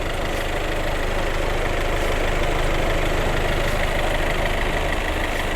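The 2.0 TDI diesel engine of a seventh-generation Volkswagen Golf idles steadily up close, a constant rumbling drone with a faint knocking texture and no voices.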